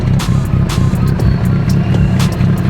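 A 700+ horsepower Mitsubishi Evo 8 drives at night, its engine rumbling loud and close with a steady low drone and scattered sharp clicks and ticks over the top.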